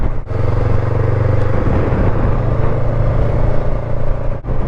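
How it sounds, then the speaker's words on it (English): Wind buffeting while riding a Honda NX500 motorcycle on long straight roads, a loud, steady rumbling roar mixed with engine drone, close to the microphone and continuous throughout. "God, this wind is tiring."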